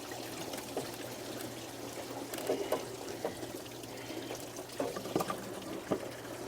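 Fluid drains out of a Mercedes engine that has an oil leak, making a faint, steady trickle with a few small splashes and drips.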